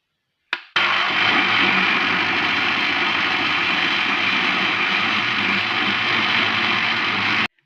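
A kitchen blender whirs up to speed and runs at a steady, loud whine, blending boiled soybeans with water, then stops abruptly.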